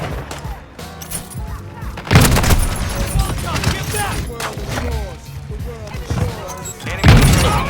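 Shotgun blasts in a Call of Duty Modern Warfare II online match, loud booming shots at irregular intervals amid other game gunfire and effects, with voices talking over the action.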